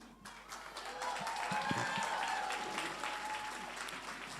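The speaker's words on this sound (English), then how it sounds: "So please give a warm hand, for yourselves, the audience." Audience applause fills an anime convention hall after a cosplay competition, a dense, steady wash of clapping that swells and holds for several seconds with some faint voices underneath.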